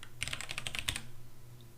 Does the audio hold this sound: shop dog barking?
no